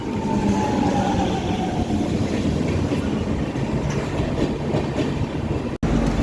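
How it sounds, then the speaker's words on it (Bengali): The Kaziranga Express passenger train rolls into Bardhaman Junction with a loud, continuous rumble and rattling wheel clatter heard close from inside the carriage, with no talking. "ট্রেন এখন বর্ধমান জংশন রেলওয়ে স্টেশনে এসে পৌঁছালো।"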